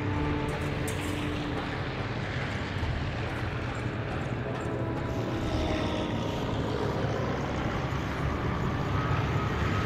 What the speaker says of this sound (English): Those are some big planes.